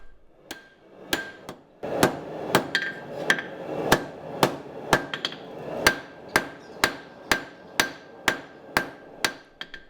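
A hammer strikes 52100 steel while a knife blade is forged, landing about fifteen sharp, ringing metallic blows in a steady rhythm, close and loud, with no talking.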